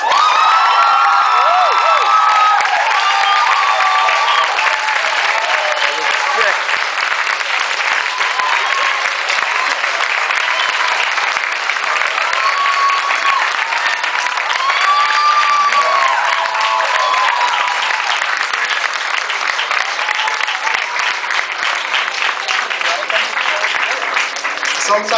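Audience at a slam poetry event in Ottawa applauding and cheering loudly after a poem, dense continuous clapping with whoops and shouts throughout, close and sustained.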